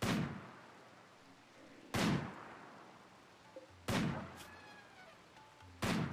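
Gunfire in the game RimWorld: four loud, widely spaced single shots, about two seconds apart, each fading into a short echo, with faint game tones between them.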